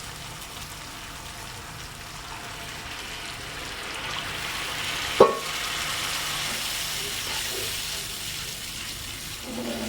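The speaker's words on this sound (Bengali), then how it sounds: "এবার দিয়ে দিব পানি।" Water is poured into a pot of fish curry, a soft, steady rushing that swells midway with one brief clank of the pot, heard fairly quietly from close by.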